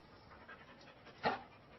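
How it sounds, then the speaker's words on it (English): A sniffer dog pants softly in a garden beneath a veranda, then gives one short, sharp sound, heard close and alone. "We see the dog barking."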